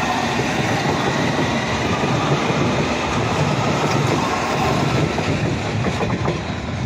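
A London Underground S stock train passing at Barking station, a loud, steady rumble of wheels and motors with light rhythmic clatter, sustained throughout with no talk.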